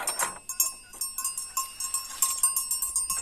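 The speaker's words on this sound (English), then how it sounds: "That's a lovely bell you have." A bell worn by a goat on a Portuguese homestead clanks in quick, irregular metallic strikes close by, ringing with a sustained tone as the animal moves.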